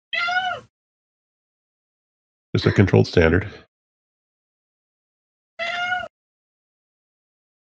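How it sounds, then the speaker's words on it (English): A cat meows twice, a clear, close, drawn-out cry at the start and another near the end, with a short burst of human speech between them in an otherwise silent room. "I hear kitty, and it's not my kitty"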